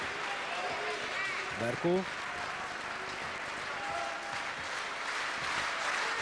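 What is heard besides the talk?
applause from the Szolnok home crowd at a handball match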